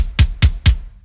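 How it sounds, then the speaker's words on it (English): Three deep kick drum hits from a GGD sample, evenly spaced about a quarter second apart, each a punchy low thump with a bright click on top and a short decay, played alone. "So the kick from GGD"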